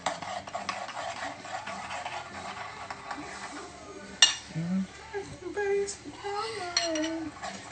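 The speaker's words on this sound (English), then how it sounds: "Get your spoon. And you stir it around." A spoon stirring and scraping around inside a pot or bowl, giving a continuous clinking and scraping that sits under a voice speaking.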